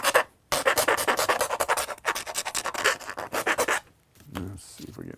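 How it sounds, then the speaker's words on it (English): Rapid rhythmic rasping strokes as burrs are scraped off a plastic RV light part, loud and close in dense bursts broken by two brief pauses, with a little handling noise near the end. "We're going to clean out all the burrs here, which is what we need to do anyway."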